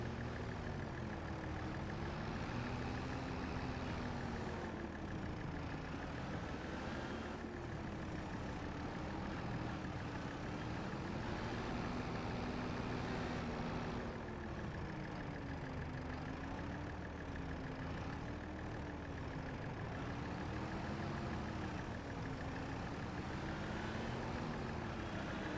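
A farm tractor engine runs steadily in muddy ground, a continuous low idle-like rumble with a slowly wavering pitch, heard close and alone throughout.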